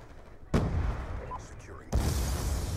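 Frag grenade explosion in Black Ops 2 multiplayer, two heavy booming blasts about a second and a half apart, each followed by a rumbling tail under faint game ambience.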